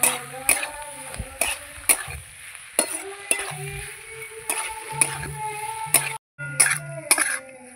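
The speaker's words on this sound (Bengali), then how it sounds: "দিয়ে ভালো করে আবার আমি মশলাটাকে কষাবো" Spice masala with salt and turmeric frying alongside taro in a pan, with a gentle sizzle and repeated clacks and scrapes of a stirring utensil, plus a brief throat-clearing sound.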